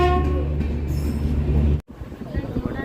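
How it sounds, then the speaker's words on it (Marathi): A Konkan Railway train pulls into a crowded station on the Ratnagiri–Diva route, its loud low rumble and rolling wheel noise filling the scene before a brief drop-out, then resuming amid platform bustle and voices. "फायनली ट्रेन आले आणि आमची धावपळ चालू"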